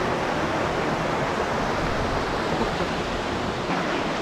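The River Esk flows near Egton Bridge on a countryside walk, a steady, loud broadband rush of water that fills the scene without a break, with no talk over it.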